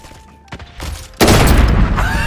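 Video game firefight with a sudden loud burst of automatic gunfire and blast noise that keeps up without a break to the end, after a quieter lead-in of muffled thumps and faint tones.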